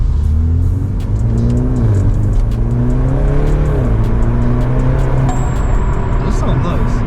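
A car with a valved exhaust bought from Alibaba revs repeatedly at close range, its engine note rising and falling over a loud, continuous drone.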